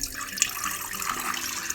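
Water drained off banana peels soaked for two nights runs in a steady, fairly quiet trickle and splash, with no talking.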